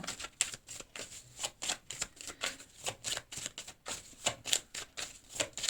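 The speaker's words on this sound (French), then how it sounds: "Et puis on va prendre une dernière carte." Tarot cards are handled and drawn from a deck, with a rapid series of soft papery flicks and riffles in an irregular rhythm, close and fairly quiet.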